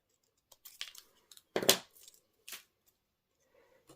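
Scissors cut glimmer paper for a handmade card in a few quick, close snips and crinkles, separated by short quiet gaps.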